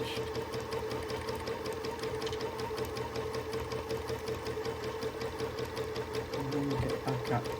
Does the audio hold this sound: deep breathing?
no